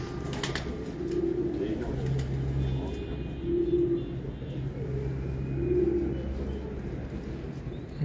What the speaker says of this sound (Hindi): यह फेवरेट कबूतर है